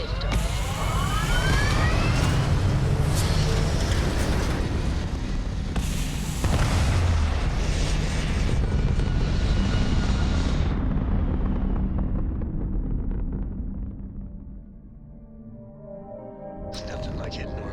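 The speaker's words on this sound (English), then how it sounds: "We have liftoff." Spaceship rocket engines roaring at liftoff in Starfield, a loud sustained rumbling blast with crackling texture that fades toward the end, under occasional speech.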